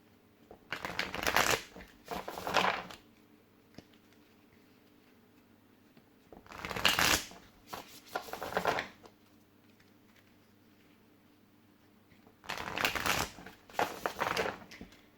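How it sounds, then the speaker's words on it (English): Tarot cards are shuffled in three separate bursts of papery riffling and flicking, each lasting a couple of seconds, close and fairly crisp, with quiet pauses between them. "give it another shuffle"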